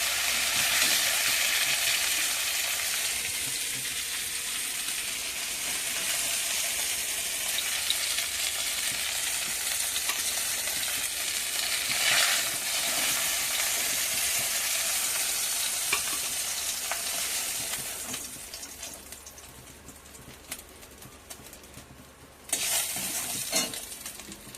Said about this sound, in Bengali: মাছগুলো এবার লাল লাল করে ভেজে নেব